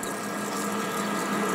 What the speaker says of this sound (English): We put coolant. We start drilling. This is the drilling.